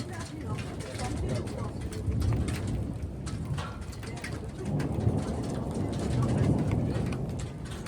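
Thunderstorm in Corrèze with heavy rain and hail, a steady dense patter and rumbling close by, while someone talks over it.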